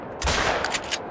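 A short burst of sharp, crackling shots from the hunting video game Hunter: Call of the Wild fires in quick succession, loud and close, with several distinct cracks over about a second.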